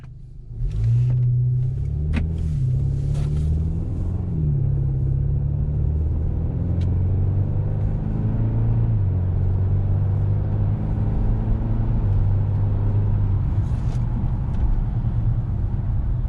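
Steady low engine drone heard from inside a moving Kia K5 (DL3) fitted with a tuned exhaust chamber, smooth and fairly quiet, with the pitch rising and falling slightly as it drives.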